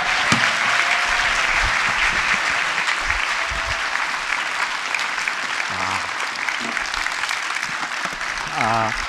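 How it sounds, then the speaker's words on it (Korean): A church congregation gives loud, sustained applause to welcome a pastor taking on the role of lead pastor. The dense clapping continues throughout, with a voice briefly heard over it toward the end. "힘찬 격려와 응원의 박수로 모시도록 하겠습니다."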